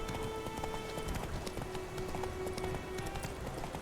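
Roach the horse galloping in The Witcher, a quick irregular patter of hoofbeats, fairly close and steady over a soft game backdrop.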